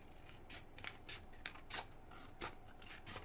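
Scissors snip and rasp through a paper craft tag in a series of short, quiet, uneven cuts, close up, with no talk.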